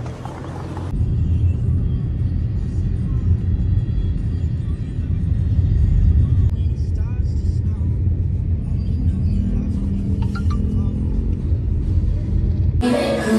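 A car passes by on a city street near a mall during stormy weather, a loud sustained engine and tyre rumble that swells and fades over several seconds, heard from the roadside.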